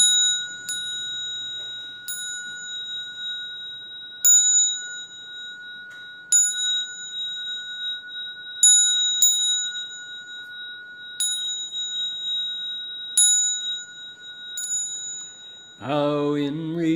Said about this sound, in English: Okay, again, I'm going to ring the bell.